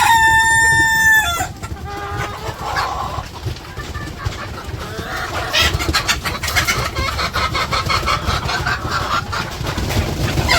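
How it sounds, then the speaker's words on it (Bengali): Village chickens in Bangladesh gather at a water dish: a loud rooster crow opens, followed by continuous close clucking and scratchy fowl chatter over a faint engine hum. "ওই যে মুরগি পানি খাইতেছে"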